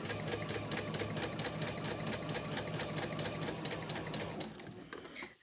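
A sewing machine runs steadily, stitching piping cord into a cushion cover with a close, rapid mechanical rattle that carries on without pause and stops near the end.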